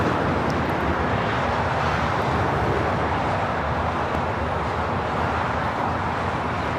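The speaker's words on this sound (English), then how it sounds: "Cargo King lining up 25 right for takeoff." A Cargo King jet takes off from runway 25 right at LAX, its engines a loud, steady broadband roar that holds without a break for the whole stretch.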